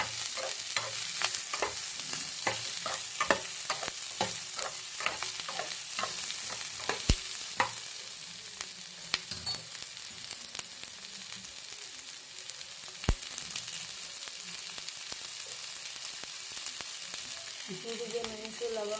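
Chicken curry fries in a pan with a steady sizzle, while a spoon scrapes and stirs in quick, regular strokes that slow and thin out later, heard up close and without speech.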